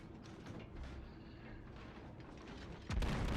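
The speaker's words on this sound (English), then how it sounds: "Shots out again. Rapid firing." Battleship Fuso's main guns firing rapidly in a naval combat game, a steady low rumble of gunfire ending in a loud, heavy blast near the close.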